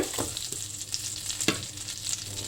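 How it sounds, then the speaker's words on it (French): Butter melts and sizzles in a hot pan, a soft continuous crackle with a few spatula scrapes and taps, close and fairly quiet. "Laissez vraiment bien fondre le beurre."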